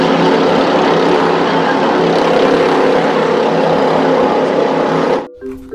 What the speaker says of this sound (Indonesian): Di sini ada speedboat.